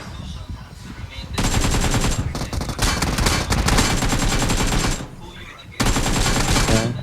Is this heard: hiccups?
no